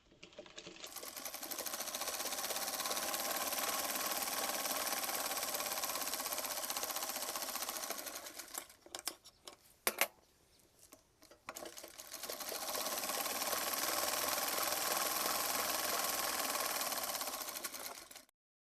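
A sewing machine stitches the side seam of a half pant from waist to hip, running steadily for about eight seconds, pausing briefly amid a few clicks, then running steadily again.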